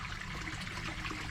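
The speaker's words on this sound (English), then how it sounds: "you will see that the water is coming back through there" Water runs back through a koi pond skimmer once the pump is switched off, a steady close trickling flow with a low watery rumble, continuous for the whole stretch with no voices.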